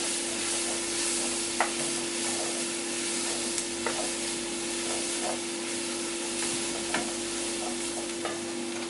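Tomato puree cooks in a hot pan with a continuous close sizzle and hiss, broken by occasional soft clicks and scrapes of stirring.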